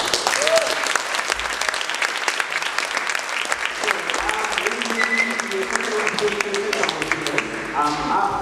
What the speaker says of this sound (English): One more round and another round of applause for our speakers.